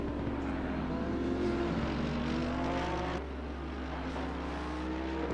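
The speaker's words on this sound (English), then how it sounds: "Mercedes is pulling away from him. That big engine, the powerful engine." A Mercedes GT3 race car engine in the Assetto Corsa Competizione racing game at the Hungaroring circuit, a loud continuous roar that holds a steady drone throughout.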